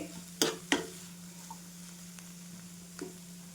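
Drumstick flower vegetable is stirred in oil in a pan, giving a low sizzle under a steady hum, with two quick scraping stirs near the start and a fainter one later.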